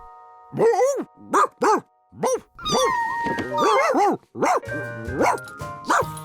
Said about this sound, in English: Lucky had no idea what Hundley was. He'd never seen a dog before.